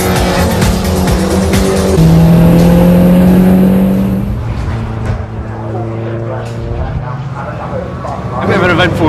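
Mini race cars circuit racing on track, engines droning and shifting pitch as they pass, with a sustained high engine note early, moderately loud and steady throughout, mixed with a voice talking over it.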